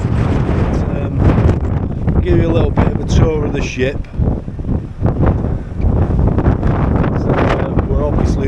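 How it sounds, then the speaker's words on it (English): Strong wind buffets the microphone on an open ferry deck, gusting roars and rumbles nearly throughout while someone talks over it. "It's pretty windy, so I'm not sure if you can hear me properly"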